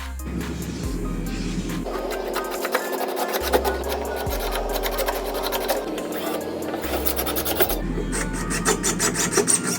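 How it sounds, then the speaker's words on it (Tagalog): Steady rasping drone of a powered saw cutting through wood aboard a ship, close and continuous, with the motor pitch shifting as the blade bites and eases. "dyan naman ipapasok yung lagari nating automatic"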